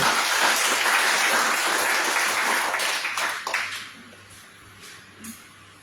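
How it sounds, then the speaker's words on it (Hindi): Church congregation breaking into applause during a service, loud dense clapping for about three seconds before tapering off to scattered claps. "क्यों ना एक ताली बजा दे इसके लिए"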